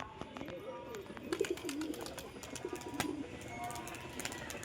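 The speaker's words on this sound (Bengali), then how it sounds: "মাদি কবুতর" Domestic pigeons cooing softly in a quiet loft, a few low rolling coos repeating close by over faint background noise.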